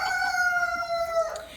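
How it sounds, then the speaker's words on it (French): A Pekin bantam rooster, salmon blue, kept with salmon gold hens, crows one long, clear cock-a-doodle-doo at moderate distance, followed by a brief cluck. "Donc ce sont les Pékins saumon, coq saumon bleu avec poule saumon doré"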